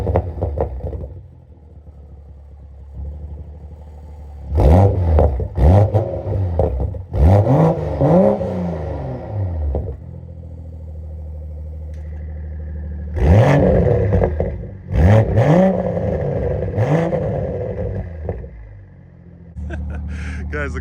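A Toyota Supra MK5's B58 inline-six with a catted downpipe revs to around 4,000–4,500 rpm in several sharp, loud bursts, each rising and falling back to a rumbling idle between blips.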